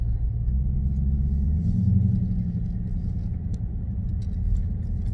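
A Dodge Challenger or Cadillac Escalade with its muffler deleted rumbles in a steady, loud low idle heard from inside the cabin, with a slight swell near the middle.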